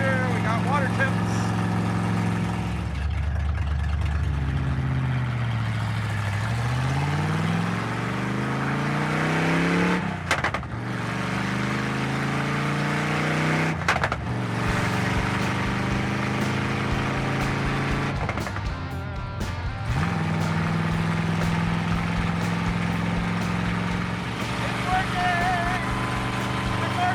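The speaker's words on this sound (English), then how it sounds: "Motor seems happy. We got oil pressure, we got water temps." A Pro Street Daytona car's engine runs steadily and loud for the whole stretch, its note rising and falling with the revs, while people talk over it.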